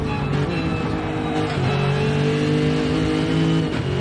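Subaru WRX rallycross car engine in a CLR sim-racing event, revving hard and accelerating with a loud, sustained near roar and rising pitch, briefly dipping at a gear change before climbing again.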